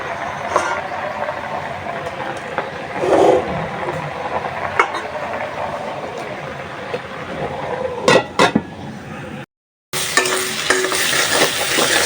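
Green chilies fry in hot oil with onion in a village Bengali kitchen, a steady sizzle with a few sharp clinks of a stirring utensil and a brief dropout near the end.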